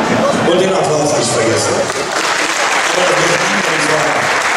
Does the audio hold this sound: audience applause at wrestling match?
yes